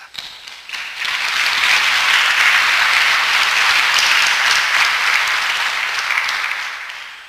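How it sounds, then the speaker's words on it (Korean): A crowd claps steadily and warmly for several seconds at a church service, welcoming a missionary, rising quickly, holding a dense even roar, then tapering off near the end. "선교사님 나오시면 환영의 박수로 우리 맞이하도록 하겠습니다"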